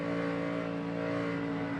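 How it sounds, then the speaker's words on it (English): A NASCAR stock car's engine hums at the 2010 Southern 500, a steady, sustained tone from a distance, lasting under two seconds with no voices over it. "You can hear him starting to really pedal the throttle"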